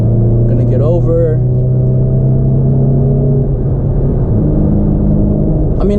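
A Mercedes-Benz C300 accelerates hard, its engine and exhaust droning loud and steady with rising harmonics, close and continuous, while a voice talks briefly early on.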